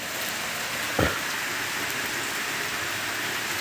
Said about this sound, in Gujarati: વરસાદ ફૂલ જોરથી ચાલુ થઈ ગયો છે